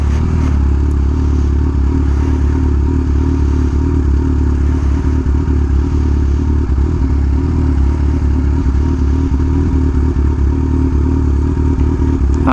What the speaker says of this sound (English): There's all kind of bikes.